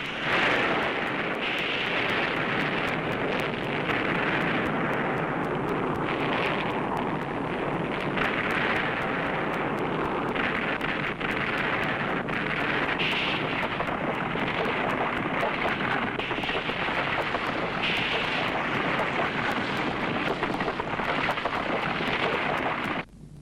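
A deep, sustained roar from an underground nuclear test explosion in the Godzilla film Godzilla vs. Megalon, dense and loud throughout with a rumbling, rushing texture and no pauses.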